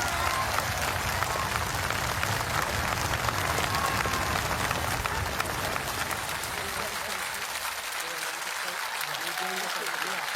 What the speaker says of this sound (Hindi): ये जो तालियों का शोर है ये बिल्कुल बंद नहीं होना चाहिए, पीछे से भी तालियां आए।